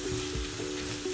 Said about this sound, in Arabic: نخليوها تشحر مزيان